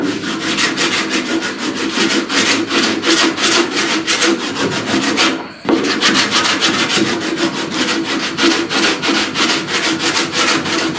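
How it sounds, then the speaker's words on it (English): Sandpaper rubs steadily over a truck cab corner during dent-repair body work, a loud, rhythmic back-and-forth scratching that runs alone without pause except for one brief break midway. "As I sand this, I'm trying to decide how I want to attack this crease"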